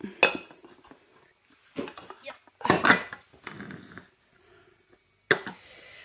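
A four-ingredient chocolate brownie cooked in a bowl is turned out onto a plate, giving a few sharp clinks and clatters of crockery between quiet pauses.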